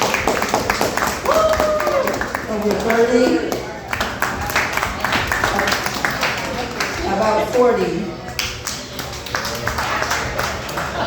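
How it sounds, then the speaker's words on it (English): A bar crowd at a comedy show gives scattered bursts of clapping mixed with loud voices and someone talking over the room. "So, clap if you're over 21."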